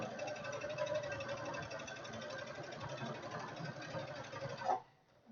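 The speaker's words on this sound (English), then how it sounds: "So I'm just sewing all the way around" A sewing machine stitches a small hem around a fabric face mask, running as a fast, continuous mechanical whir close by before stopping abruptly near the end.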